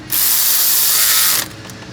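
A hand ratchet tightens the oil cooler bolts on a 2014 VW Tiguan in one loud, fast, continuous run of clicks lasting about a second, then stops, leaving faint workshop ambience.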